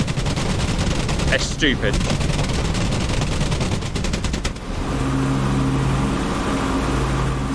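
A 57mm cannon fires from a WWII Mosquito aircraft in a video game, with rapid repeated heavy booms over a steady engine drone that then settles into a lower hum. Someone speaks briefly over the noise.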